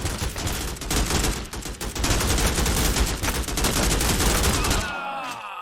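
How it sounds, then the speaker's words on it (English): AK-47 fire in the Xbox shooter Strike Force 3, a loud sustained automatic burst of rapid shots for several seconds that cuts off abruptly, leaving a fading ringing tail. "I'm going to show you the AK-47"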